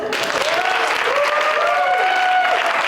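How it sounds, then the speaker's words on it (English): An audience inside City Hall applauds at a council member's swearing-in ceremony, a dense, steady round of clapping that fills the room at constant loudness. A tonal voice rises faintly above it. "It's all smiles and clapping"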